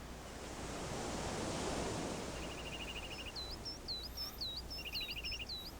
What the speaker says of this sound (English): We can hear the nice sounds of the waves crashing.